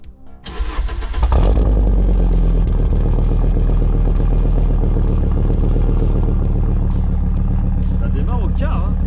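A naturally aspirated five-cylinder Audi Coupé GT 2.2E with a stainless exhaust cranks briefly, catches and roars to life, then settles into a loud, throaty idle with a few revs, close up.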